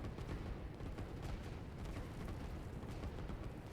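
Artillery fire in the strategy video game Line War rolls as a continuous dense barrage of booms and blasts, steady throughout without a break.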